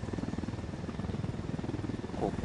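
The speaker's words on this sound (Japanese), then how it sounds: "ここにヘリがあるぞ。" A helicopter in the video game Ghost Recon Wildlands, its rotor beating in a steady, rapid low thumping that stays loud and close throughout, with no voices over it.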